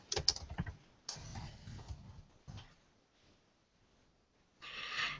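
Keys clatter on a computer keyboard during an assistive-technology workshop, with bursts of quick close taps at the start, around one second and again near the end, separated by quieter gaps.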